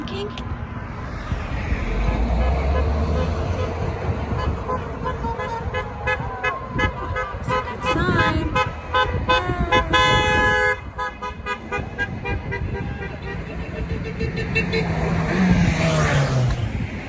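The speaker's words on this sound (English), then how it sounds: "You hear the honking?" Car horns honk amid rainy downtown street traffic on a Friday night, with repeated toots over steady road and engine noise and voices in the background.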